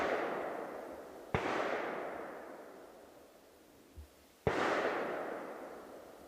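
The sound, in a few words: distant gunshots from a large gun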